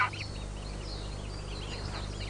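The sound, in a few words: newly hatched greylag goose goslings calling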